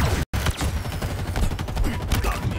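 A plasma weapon in the video game Halo Infinite fires in a rapid, dense stream of bursts, a continuous fusillade of quick crackling shots that hardly pauses, with only one brief gap near the start.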